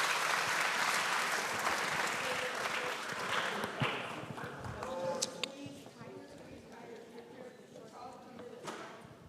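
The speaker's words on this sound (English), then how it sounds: "Let's give our 9th grade another round of applause." Applause from an audience at a ninth-grade school awards ceremony, dense clapping that thins toward the end, with voices talking over it.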